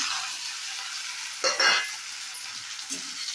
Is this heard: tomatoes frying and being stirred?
yes